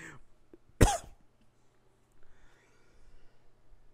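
One sharp, loud cough near the start, followed by quiet breathing and faint background noise.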